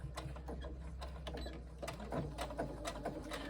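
A sewing machine stitching short seams at the base of a tote bag, a quiet rapid mechanical chatter with irregular clicks and taps, heard close up with no talking.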